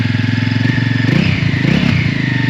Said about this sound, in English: If you can give it little revs, and the whole bike is just sitting tight